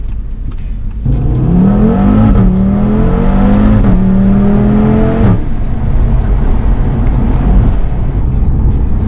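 A loud 500hp turbo five-cylinder Audi TT RS-R ABT engine revs hard, pitch climbing in several quick sweeps through the gears before settling into a steady rumbling idle.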